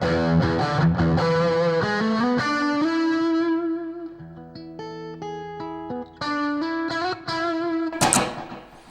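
Electric guitar played on the vintage channel of an Amp1 Mercury Edition amp with a DD2 delay, a lightly driven run of notes and chords with audible echo repeats, close and loud, ending on a sharp pick scrape, no voices.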